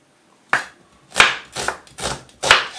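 Five sharp knife chops on a cutting board slice a red onion, each a crisp, close thud with a short scrape, spaced about half a second apart with a brief quiet lead-in.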